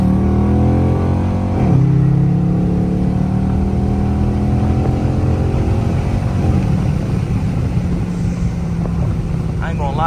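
A Dodge Charger R/T pulls hard after a downshift, its engine note rising steadily and loudly from inside the cabin with a brief dip early on, and a voice briefly talks over it.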